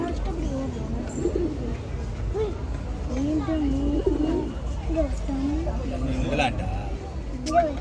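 A small diamond dove at a bird park coos in soft repeated low calls, close by, with speech and background crowd noise throughout.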